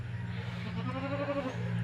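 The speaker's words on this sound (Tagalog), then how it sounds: "Nag-aalaga po ako ng kambing. Nagpapastol ako ng kambing." Goats bleat on a small goat farm, a short wavering nasal call rising over a low steady hum of background noise, fairly close.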